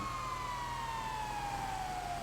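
Police siren wailing from a squad car following close behind a vehicle in a roleplay video game, a continuous loud sweeping tone with steady engine rumble beneath, no talk.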